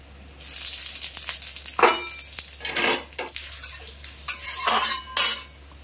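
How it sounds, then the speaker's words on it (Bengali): Bay leaf, cumin, radhuni and dried chillies tempering in hot mustard oil, a sharp sizzle punctuated by metal spoon clinks and scrapes against the pan in several bursts, close up with no talking. "ফোড়নে দিয়ে দেবো হচ্ছে তেজপাতা, গোটা জিরে, রাঁধুনি আর শুকনো লঙ্কা"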